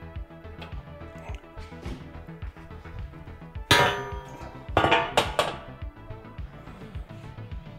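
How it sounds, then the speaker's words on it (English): Metal top plate lifted off an AgileX Bunker Pro robot, with scattered knocks and handling sounds, then two loud close metallic clangs and a few smaller rattles. "you can go ahead and lift this top plate off to get to the inside of the robot"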